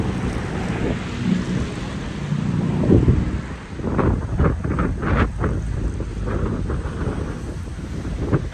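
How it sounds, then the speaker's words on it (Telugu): Strong wind buffets steadily and loudly at the beach near Helensburgh, with a rushing roar and surf-like washes throughout and no talking. "గాలి ఘోరంగా ఇస్తుంది."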